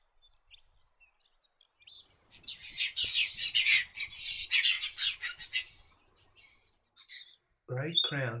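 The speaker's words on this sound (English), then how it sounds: "Southern whiteface are found in woodlands and tall shrublands where there is grassy understory." A southern whiteface, a small Australian woodland and shrubland bird, gives a run of high, clear chirping notes in a quick twittering series, fairly close and alone, followed by a short spoken voice at the end.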